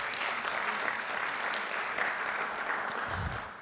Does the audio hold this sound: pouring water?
no